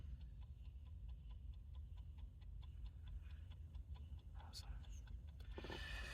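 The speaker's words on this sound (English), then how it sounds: "You can hear that clock ticking too." Dashboard clock in a 1967 Corvette L71 roadster with a 427 engine, ticking in a soft steady rhythm about twice a second, faint under low cabin rumble, with a brief rustle near the end.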